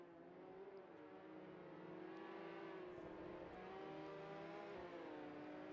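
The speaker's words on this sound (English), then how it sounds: "Goes flying past a lap car." A race car at a Mini Can-Am Street Fighter race in Townsville speeds past a lapped car, its engine a sustained, gradually building whine that swells as it passes, heard at moderate distance with no commentary.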